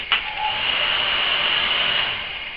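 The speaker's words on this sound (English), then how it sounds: "Get the heat gun hot, and then I can seal it this way" A heat gun blows hot air to seal material on a nutcracker figure. It gives a steady, close hiss with a high whine that holds evenly throughout.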